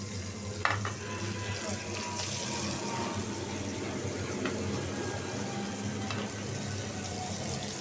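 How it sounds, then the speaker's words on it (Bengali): Onions frying in a pan for a hilsa fish bharta, a steady close sizzle and crackle running unbroken throughout, with a few brief clinks near the start and no talking. "এখন আবার একটু ভাজা নিতেছি"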